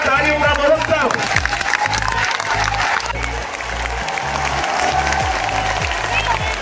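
A crowd at a large Hindu bhandara festival gathering in Palasani claps in loud, dense, sustained applause, with a low rhythmic thumping beneath and voices mixed in.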